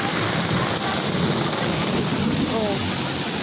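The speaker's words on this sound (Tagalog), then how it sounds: "Lakas ng ulan." Heavy rain pours steadily during a flood in the Philippines, a dense continuous roar close by, with faint thunder-like rumble and a voice speaking briefly beneath it.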